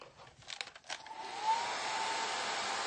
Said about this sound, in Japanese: ドライヤーしてきます。